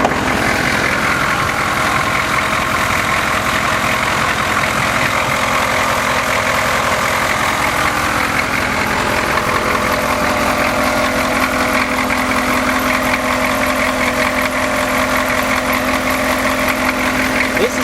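A 1983 Chevrolet Suburban with a 6.2 diesel engine idles steadily and up close, a continuous low, even rumble with a faint rattle and no talking.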